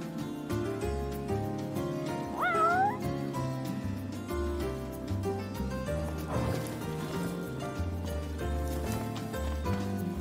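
A cat in the video game Final Fantasy XV gives a single short meow partway through, over steady in-game background music.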